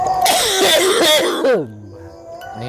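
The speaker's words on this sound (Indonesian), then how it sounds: "Bukan karena hawa-hawa makam, bukan. Emang batuk dari tadi" A person coughs hard several times in a harsh, rasping burst that trails into a strained vocal sound, close and loud, followed by a quieter throat noise near the end.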